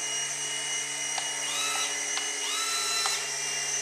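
A small indoor remote control helicopter hovers with a continuous high-pitched motor whine and rotor buzz, rising and falling in pitch as it maneuvers, fairly quiet and steady throughout.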